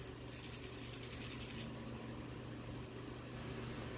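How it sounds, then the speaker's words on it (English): A small motor inside a Furby toy labors with a faint, strained whir and ratcheting, rubbing mechanism noise, a higher whine fading out partway through. "That motor don't sound good at all."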